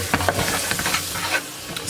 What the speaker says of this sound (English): now I'm going to add my paprika and my salt